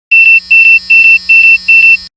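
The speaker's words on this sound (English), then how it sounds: "the beeps have become more frequent" A VR headset sounds its proximity warning as the wearer nears the boundary: five rapid double beeps, shrill and electronic, repeating evenly in quick succession before stopping.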